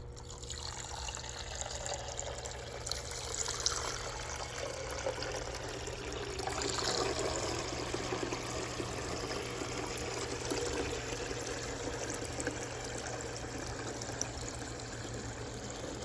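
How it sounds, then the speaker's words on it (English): A backyard garden fountain with miniature waterfalls trickles and splashes continuously, a soft steady pouring of water held at a gentle even level. "Something about those miniature waterfalls, I could just stare at it and be calmed down and relax."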